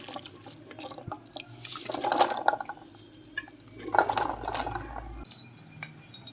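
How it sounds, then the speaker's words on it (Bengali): Cooking water being drained from boiled chickpeas, close splashing and trickling pours in two louder bursts, with drips and light clinks between them and a low background hum. "ছোলা সেদ্ধ হয়ে গেছে আমি জলটা বের করে নিলাম"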